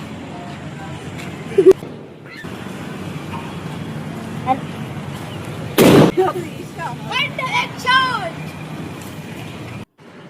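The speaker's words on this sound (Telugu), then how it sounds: "టపాకాయలు వేలుస్తున్నాడు" Sharp firecracker bursts pop outdoors near a hostel, one loud blast standing out, amid street noise and people talking nearby.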